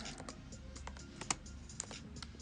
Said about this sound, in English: I'm getting so excited, I'm typing fast.